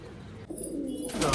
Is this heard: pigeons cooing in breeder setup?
yes